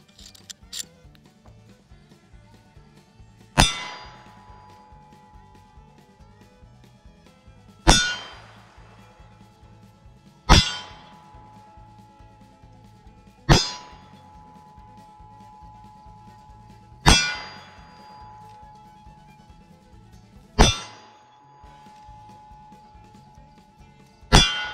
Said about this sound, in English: use your ejector rod to push out your spent cases